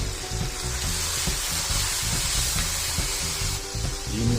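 Minced meat keema fries with spices in a pan, giving a steady, close sizzle and hiss with light stirring clatter throughout, no voices.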